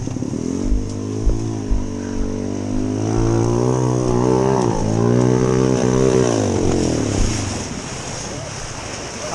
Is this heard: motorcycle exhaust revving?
yes